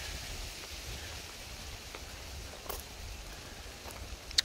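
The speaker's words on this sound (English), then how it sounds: "since it's still raining and I'm still getting wet" Steady rain falls on a tent at Ouachita Lake, a soft, even patter with occasional sharper drops close by, no voices.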